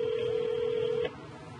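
A telephone tone sounds steadily for about a second in a professor's university research office, then stops abruptly, leaving only faint background noise, with no voice or answer.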